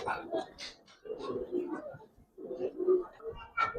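Giribaz coloring pigeons coo in a loft, with soft repeated low calls in uneven bursts close by, mixed with people talking.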